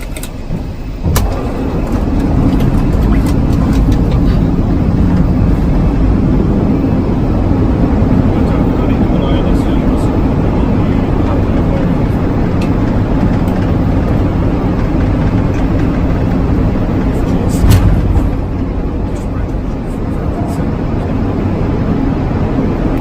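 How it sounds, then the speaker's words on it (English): Heavy low rumble and roar of wind buffeting an Airbus airliner's lowered landing gear on approach, loud and steady throughout with turbulent fluctuations and a brief swell near the end. "the sound of relative wind striking the landing gear and getting turbulent and creating buffeting effect"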